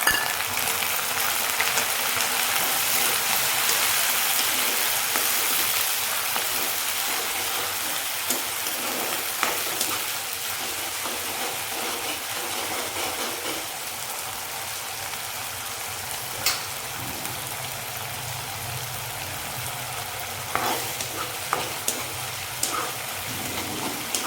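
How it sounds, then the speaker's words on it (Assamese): Ginger garlic paste sizzles with browned onions in a pan, a dense, steady hiss like light rain that continues throughout, with occasional soft stirring clicks and pops. "তাৰপিছত মই তাতে আদা নহৰু পেষ্টখিনি দি দিছোঁ"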